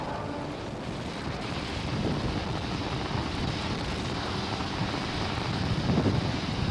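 Roaring broadband rumble of SpaceX Falcon rocket Merlin engines during a launch, a steady loud wall of noise with wind buffeting on the microphone, swelling slightly toward the end.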